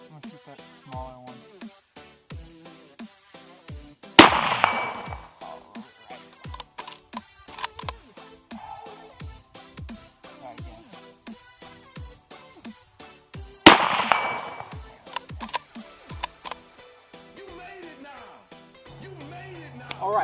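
Halo game audio with two loud, sharp shotgun blasts a few seconds apart, set among many smaller clicks and impacts while a player talks throughout.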